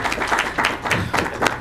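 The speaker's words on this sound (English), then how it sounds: "So yeah, we can clap for that." An audience at a Startup Grind meetup in Oklahoma City claps together in a dense, even burst of applause that fills the short moment at moderate loudness, with no voices over it.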